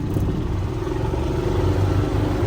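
An electric golf cart drives with a steady motor hum, low drone and faint whine running continuously and close, with no talking.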